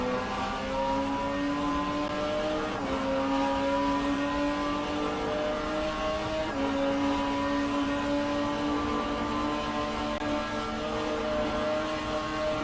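A V12 Jaguar XJS in a racing video game at Bathurst drones with a smooth, loud engine note that climbs through the revs, dips at gear changes and climbs again, steady and close with no speech.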